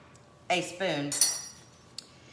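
A spoon clinks and scrapes against a dish while serving almond pear tart, a few sharp close metallic taps and a brief scrape, with a quiet tap near the end.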